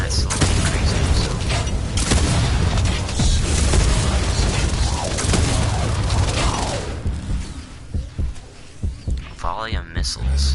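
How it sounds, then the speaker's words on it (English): Missile volley exploding in the video game Paragon: a dense, loud run of booms and crackling blasts that thins into a few separate thuds toward the end, with voices faintly underneath. "Volley of missiles."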